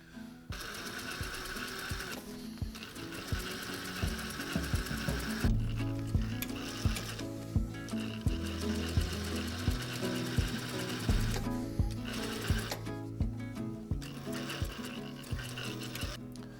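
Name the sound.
sewing machine stitching a down jacket seam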